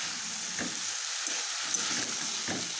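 Pointed gourd, eggplant and potato fry in spiced oil with a steady close sizzle and a few soft stirring strokes over it.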